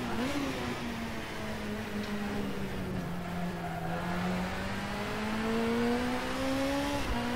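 Nissan race car engine in a racing video game, holding a steady loud drone with shifting pitch as it slides through a corner, alone with no voices throughout.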